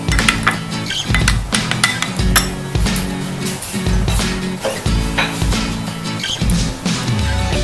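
Egg batter seasoned with salt is beaten in a bowl, with rhythmic clinking and scraping of a utensil against the bowl in steady bursts, close and clear with no talk.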